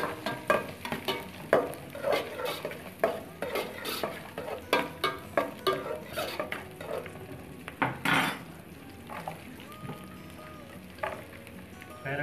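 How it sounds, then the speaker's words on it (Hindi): Garlic and onion with cumin sautéing in a pot for lentil soup, a soft steady sizzle with repeated scraping stirs of a spoon against the pan, close and fairly quiet. "इसमें गार्लिक डालेंगे ओनियन डालेंगे इसको थोड़ा अच्छे से सौते करेंगे"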